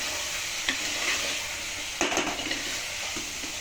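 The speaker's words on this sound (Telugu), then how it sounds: "కారం వేసుకున్న తర్వాత దాన్ని బాగా కలుపుకోవాలి." Chicken with salt and chili powder is stirred in a hot pan, giving a steady sizzle with a few scraping spoon strokes, close and moderate in volume, with no voices.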